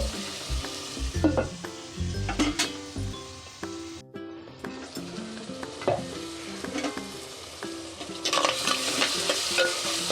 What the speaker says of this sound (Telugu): ఈ పచ్చివాసన పోయేదాకా వేయించుకోవాలి